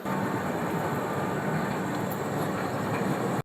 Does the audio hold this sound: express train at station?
yes